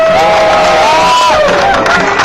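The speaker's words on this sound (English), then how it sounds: "give a big round of applause for Brass Rousey who accompanied us up here" Crowd at a Wellington protest march against the TPPA cheering and shouting loudly, a dense roar of voices with a rising whoop.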